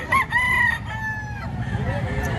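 A Grey Hatch gamefowl rooster crows loudly nearby, one long drawn-out call that trails off, over a noisy background with a murmur of voices at a fowl market.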